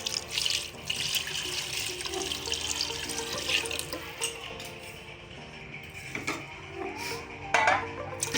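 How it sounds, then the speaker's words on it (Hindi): Water pours into a cooking pot of meat for yakhni pulao, a steady close splashing gush with light clinks of the pot, running continuously throughout and briefly louder near the end, with no voices. "पहले हम अब इसके अंदर पानी डालेंगे"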